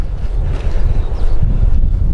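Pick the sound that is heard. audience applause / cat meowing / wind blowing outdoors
wind blowing outdoors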